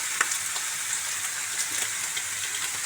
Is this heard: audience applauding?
no